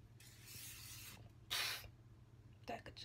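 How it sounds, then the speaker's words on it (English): Hairspray from an aerosol can hisses onto curled hair in two short bursts, then a third brief spray, close by and fairly quiet. "Guess I gotta top it off with some good old hairspray"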